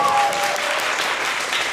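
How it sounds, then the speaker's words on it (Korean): A theater audience applauds during a musical's curtain call and stage greeting, a brief wash of dense, fairly loud clapping with no voices on top. "큰 박수로 맞이해주시면 감사하겠습니다"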